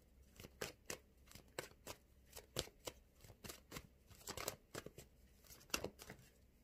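Oracle cards being shuffled for an angel card reading, a quick, irregular run of soft riffling slaps and flicks, close but quiet, with no speech.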